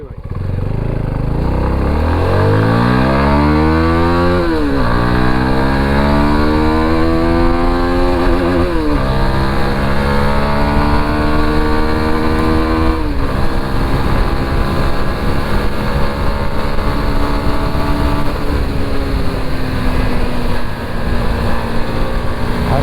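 A CFMOTO 250NK motorcycle engine climbs hard up a steep flyover, loud and close, rising in pitch through successive gears with brief dips at each shift before holding a steady high drone.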